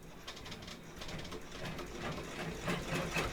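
An embroidery machine stitches down part of a snowman door design, producing a fast, rhythmic mechanical chatter that grows slightly louder and busier as it continues.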